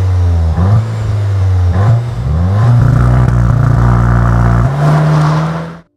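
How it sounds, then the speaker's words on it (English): A VW Arteon R Shooting Brake engine revs hard and close, climbing in pitch in repeated pulls, holding high near the red line, then dropping away abruptly. "You can rev it up to the red line."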